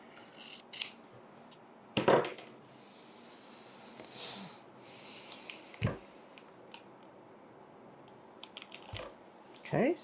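Scissors trim quilting fabric in a sewing project, giving a few soft, scattered snips and crisp cuts at moderate distance in a quiet room, with faint handling noise between them.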